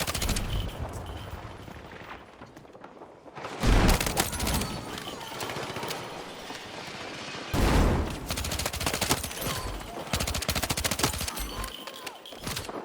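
Rapid automatic gunfire from an SGX submachine gun and other weapons in the video game Battlefield 6, with dense continuous bursts and two louder blasts standing out, no talk over it.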